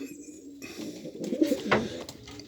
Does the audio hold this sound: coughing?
no